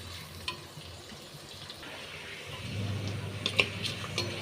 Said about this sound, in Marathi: छान असा कांदा परतत आला आहे